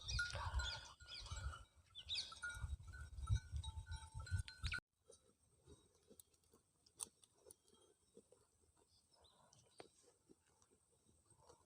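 Bells hang from the necks of a herd of Chemmari goats grazing near Udumalaipettai. A loud, busy rustle of moving animals comes first. Then quieter scattered metallic clinks and ticks ring out alone, some near and some farther off.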